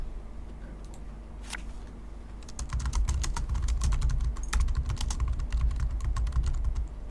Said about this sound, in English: I don't know why I'm typing to you, Darius